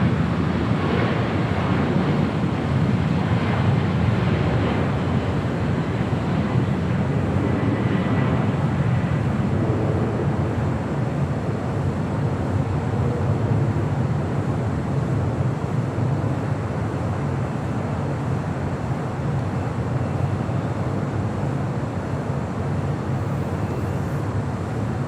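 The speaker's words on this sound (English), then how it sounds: "Next departure on the south side, Southwest Airlines Flight 2075 heading to Houston at a 737 MAX 8." A Southwest Airlines Boeing 737 MAX 8 departs LAX bound for Houston, a loud, sustained jet roar with wind-buffeted rumble, swelling early and then holding steady and broad throughout.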